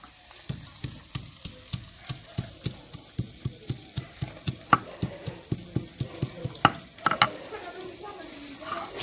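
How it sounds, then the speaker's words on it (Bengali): Whole live koi fish frying in a pan, a steady hiss of oil broken by a regular run of sharp clicks and pops, close and clear with no voices. "এদিকে আমার মাছ ভাজা হচ্ছে"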